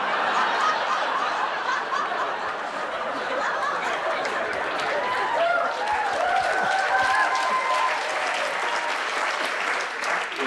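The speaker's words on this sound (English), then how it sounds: "Don't applaud him, you bastards." Sustained audience applause fills a stand-up comedy show at Leicester Square Theatre, loud and continuous throughout, with some laughter and whoops mixed into the crowd noise.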